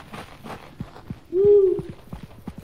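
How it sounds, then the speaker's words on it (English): A single low hoot from an owl in the video game Content Warning, brief and clear over faint footstep-like taps, with players talking before and after. "Sounds like an owl."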